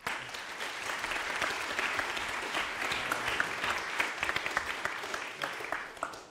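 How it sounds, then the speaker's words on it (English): An audience at a PyCon.DE 2017 conference talk claps in a steady, dense round of applause that swells briefly and fades at the end, with no speech over it. "Can you have a round of applause for him once again?"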